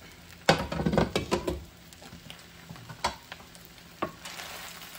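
Shrimp and rice are stirred in a sizzling frying pan, a close burst of scraping, clattering strokes over a soft background hiss, followed by a few isolated scrapes.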